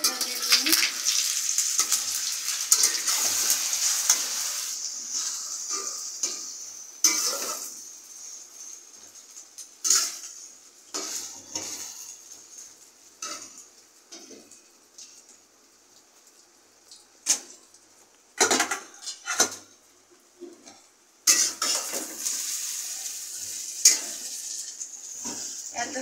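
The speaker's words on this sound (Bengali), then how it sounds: "আমি মশলা দিয়ে ডিম ভাজতেছি।" Spiced eggs are frying in a pan, giving a bright, steady sizzle that cuts off and returns several times, broken by short bursts of stirring and scraping and some louder clanks, with no one talking.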